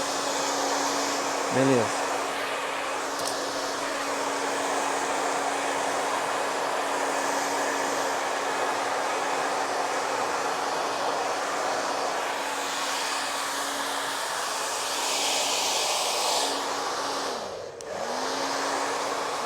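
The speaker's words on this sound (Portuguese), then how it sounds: "abaixando bem a região do rodemoinho com o secador" A hair dryer blows steadily and loudly throughout with a constant whooshing roar during a haircut at a salon, its pitch dipping briefly near the end; a short word is spoken early on.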